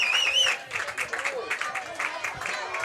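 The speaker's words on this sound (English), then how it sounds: "And the Mangum crowd comes to life." Crowd at a small-town softball game cheering and clapping after a walk on ball four, a short burst of scattered applause and whoops heard under close talk.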